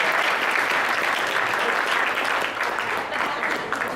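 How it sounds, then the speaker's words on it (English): An audience claps steadily for a wrestler at an evening team banquet, a dense, sustained round of applause that holds at an even loudness throughout without voices on top. "Let's give Big Mike a round of applause."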